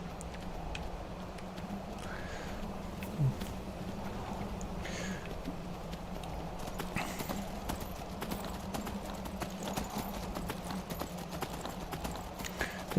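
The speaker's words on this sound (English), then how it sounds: "Getting on the horse" Hooves of a horse clip-clopping at a steady gallop in Skyrim, a continuous rhythmic patter under a low ambient rumble, moderately quiet, with no talk.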